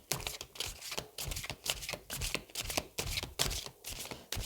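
Tarot cards being handled and shuffled during a card reading: rapid, rhythmic papery riffles and slaps, close and crisp, repeating in quick bursts with no talk.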